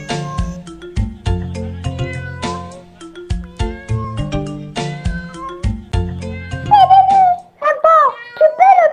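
Cartoon cat in an animated African folk tale meows and yowls plaintively in several drawn-out cries near the end, following a stretch of plucked, percussive music.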